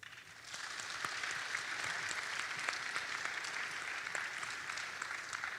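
An audience at a college orientation applauds a play with a dense, steady wash of clapping that holds at an even level throughout.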